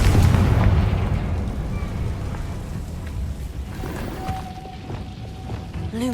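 A fire-blasting Confringo curse goes off in Hogwarts Legacy, a deep rumbling boom loudest at the start that decays into a sustained low roar, with faint magical tones ringing near the end.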